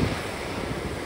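Strong wind blows over a rough sea off the Egyptian coast, a steady roaring rush of gusts and surf buffeting the microphone, with no voices.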